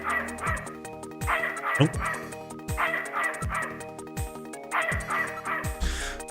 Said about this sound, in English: I'm not really good with dogs, you know.